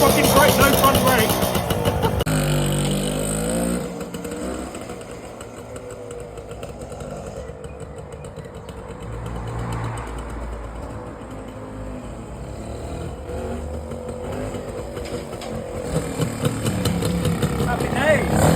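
A 1961 BSA Bantam D7 motorbike engine revs loudly and close, then settles into a steady idle before picking up again toward the end.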